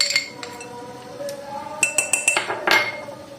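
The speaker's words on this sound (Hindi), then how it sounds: "सारा इसमें मिक्स कर लेंगे अच्छे से इसको" A bowl of vegetable salad being mixed, with a run of close, sharp clinks and scrapes of a utensil against the dish that grow busier toward the end.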